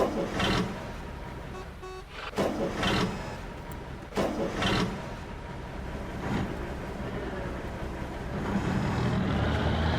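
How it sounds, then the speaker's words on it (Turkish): A Ford 1210 tractor stuck on a muddy forest road, its diesel engine cranking and revving in loud repeated bursts over a steady running rumble, close by with no talk. "Çalıştırdım, çalıştırdım ama bu sefer de yerinden kalkmıyor."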